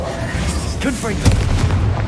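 The Confringo fire spell from the Hogwarts Legacy video game lands as a short booming blast with a punchy burst in the middle, over a dense layer of game sound.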